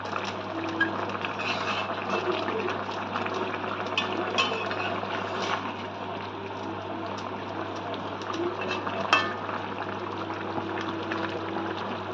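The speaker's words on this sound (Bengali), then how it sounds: "ঝোল আমরা ভালো করে ফুটিয়ে নিয়েছি" Rohu fish curry broth with mixed vegetables bubbling steadily in a pot, a continuous close simmering hiss and gurgle with a low steady hum underneath, no talking.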